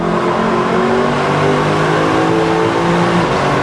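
A 2026 Lexus LC500 convertible driven hard on a track, its engine revving loudly and steadily under acceleration, heard close from inside the car, with no talking.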